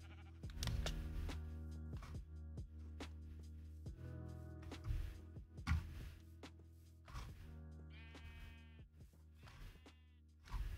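Sheep bleat repeatedly in a blocky sandbox video game, wavering calls sounding close over steady game music and ambient sound.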